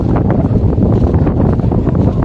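Strong wind gusting over an open beach near Ramanathapuram, a steady, loud rumble and buffeting against the microphone that continues without a break.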